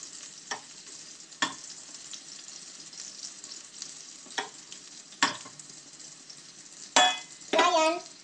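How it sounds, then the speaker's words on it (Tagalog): Carrots frying in a pan with a generous amount of cooking oil, a steady close sizzle broken by occasional scrapes and clanks of a utensil against the pan, with a louder clatter near the end. "Habang pa-fry natin dyan yung carrots natin"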